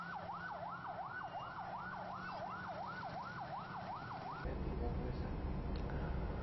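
A wailing ambulance siren rises and falls in a steady, rapid cycle over loud road noise, then cuts off as the rumble continues in Balikpapan, Indonesia, near a fire scene.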